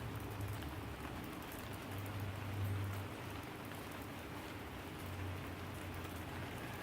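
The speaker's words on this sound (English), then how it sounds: "it's a rainy day" Steady rain falls on a rainy day at an outdoor framing and roofing build site, a soft even hiss that is fairly faint and constant throughout, with no voices.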